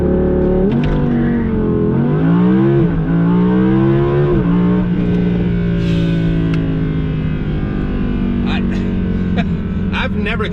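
An Audi R8 V10 Plus launches hard with wheel spin, its V10 engine roaring loud and close and climbing in pitch through repeated gear shifts, with voices over it.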